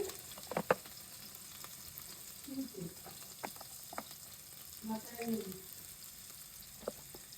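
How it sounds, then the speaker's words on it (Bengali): Onions poured into hot oil in a pan give a faint, steady sizzle, broken by a few soft stirring clinks and scrapes, with a voice speaking quietly. "এখন এটার মধ্যে পেঁয়াজ ঢেলে দিচ্ছি"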